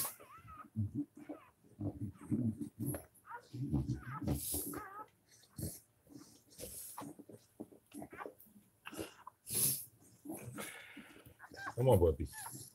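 Newborn puppies whimper and squeak in a series of short, high cries during labor, close by, interleaved with a person speaking softly.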